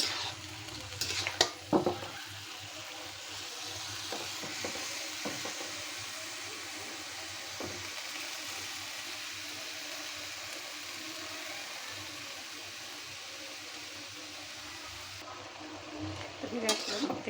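Bottle gourd leaves (lau shak) stir-fried in a pan give a soft, steady sizzle, with a few sharp utensil scrapes and clinks near the start and end.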